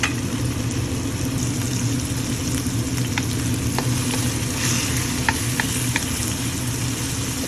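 Tomato and okra sautéing in a pan, a constant loud sizzle and frying hiss with occasional light stirring clicks and scrapes, no talking.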